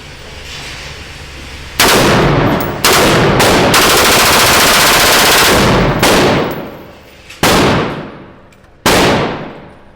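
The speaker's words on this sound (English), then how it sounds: "So the trigger is resetting itself, which induces a faster rate of fire." Rapid bursts of AR rifle fire from a super safety trigger, loud and close, with several fast strings of shots separated by short pauses and echoing tails, no talking.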